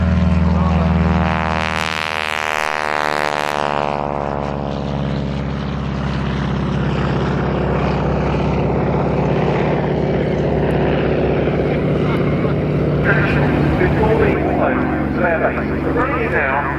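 A propeller aircraft takes off at the RAF Cosford airshow, its engine drone loud and rising, then fading as it climbs away, while a commentator talks over a public address throughout.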